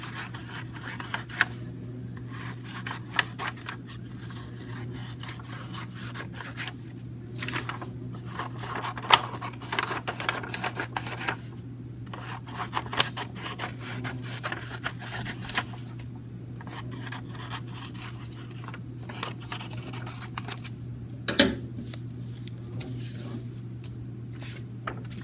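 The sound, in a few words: scissors cutting straight strips of patterned paper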